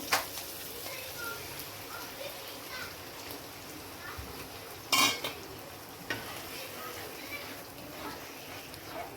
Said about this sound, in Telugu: ఇదండి ఎగ్ వేసిన తర్వాత ఫ్రై చేసాం కదా